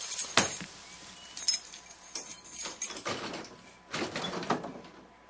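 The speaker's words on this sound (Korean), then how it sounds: "제스퍼는 안으로 들어가 문을 닫았다." A heavy wooden back door in an 1839 timber house is opened and shut, with a series of knocks, latch clicks and a faint metallic clink from a modern lock, in bursts over a few seconds.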